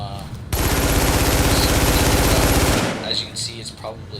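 ACR assault rifle in The Division firing a sustained rapid automatic burst at close range, loud and dense for about two seconds before cutting off, followed by faint clinks and ambient game noise.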